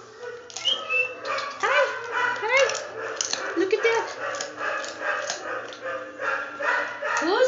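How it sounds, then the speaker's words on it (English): A dog at a kennel barks repeatedly in short bursts from a little distance, with whimpers and yips mixed in, while a person speaks softly nearby. "I think someone's barking because they want the pig's ear"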